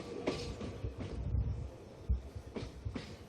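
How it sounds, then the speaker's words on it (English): A train departs a station in Wuhan with a low, rolling rumble and scattered clanks and rattles, moderately distant, with no one speaking. "the train is leaving"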